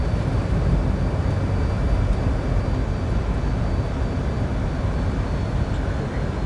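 Steady, dense jet roar from an F-14 engine in a flight simulator game, a continuous broadband rumble holding level and close throughout with no pauses.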